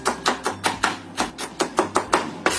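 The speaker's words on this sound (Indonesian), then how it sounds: "Setelah kita cincang kasar seperti ini, kita sisihkan dahulu." A knife coarsely chopping garlic cloves on a board, about a dozen crisp, evenly spaced thuds in a steady quick rhythm, close and clear with no talking.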